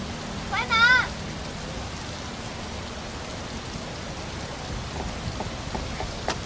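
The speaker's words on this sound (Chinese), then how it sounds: "下这么大雨" Heavy rain pours in a steady, dense hiss throughout a stormy scene. A brief voice-like sound rises near the start, and faint low rumbles sit beneath the downpour.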